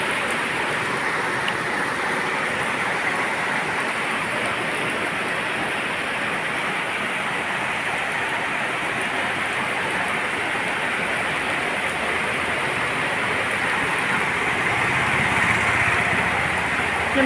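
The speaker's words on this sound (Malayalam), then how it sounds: "നല്ല മഴയാണേ" Heavy rain pours down as a dense, even hiss that holds at a steady loudness from start to finish, with no talk over it.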